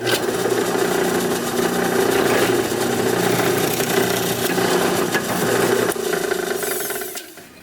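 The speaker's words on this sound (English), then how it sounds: "I'm also going to be using a 1/4-inch drill bit to create this first hole here." A power drill whirs steadily as a 1/4-inch bit bores a hole in a miter saw cutting jig, close and continuous for several seconds before winding down at the end.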